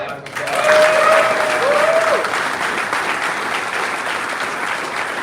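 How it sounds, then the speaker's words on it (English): An audience at a political press conference in Hamilton breaks into sustained applause, a dense wash of clapping that stays loud throughout, with a speaker's voice briefly audible over it at the start. "Give her a round of applause."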